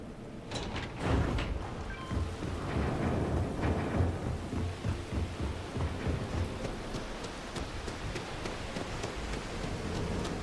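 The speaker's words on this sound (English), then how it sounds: "It'd be nice if it would stop raining." Steady rain and rolling thunder in a stealth video game's stormy level, a dense continuous downpour with a loud thunderclap early on, heard alone without talk.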